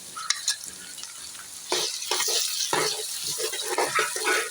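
Tomatoes go into ginger garlic paste sizzling in a pot, bringing a sudden louder hiss and crackle after a quieter stretch, with light stirring scrapes and no talking.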